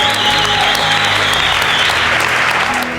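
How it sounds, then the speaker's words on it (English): Spectators at the 2009 CrossFit Games applaud the women athletes after a sledge and row event. The clapping is loud and sustained, with a crowd roar under a steady tonal hum. "Let's give them a round of applause."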